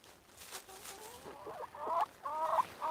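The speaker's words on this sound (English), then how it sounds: "These chickens." Chickens cluck close by in a short run of calls, growing louder toward the end, with no talking.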